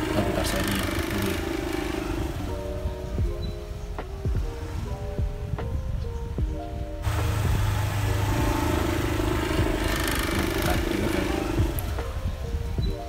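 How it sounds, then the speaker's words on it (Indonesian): A Honda Vario 125 2023 scooter, vibrating roughly, idles close by after a brief warm-up, its engine a steady mid-pitched hum with an even throb that carries on alone. "Ini posisi motor tuh nggak yang panas-panas banget ya, cuma dipanasin bentar aja sebelum berangkat cari makan dari kosan."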